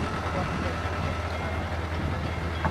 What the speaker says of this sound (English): And there's a train coming as well.